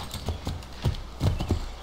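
Horse hooves clopping in Assassin's Creed III, a quick uneven trot of several close hoof strikes over a short stretch.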